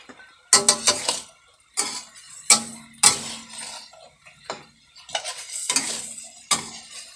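Pork and eggplant are stir-fried with sugar, oyster sauce and fish sauce in a pan, with sharp scraping and clanking strokes of a utensil against the metal, coming in irregular bursts over a soft sizzle.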